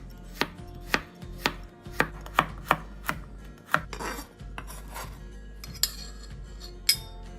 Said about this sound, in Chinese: 另外再將100克胡蘿蔔切片